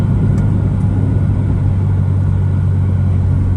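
Interior of a 1994–2001 Acura Integra GSR riding on freshly installed T7 coilovers at the front, a steady low road rumble and engine drone filling the cabin, constant and moderately loud with no voices.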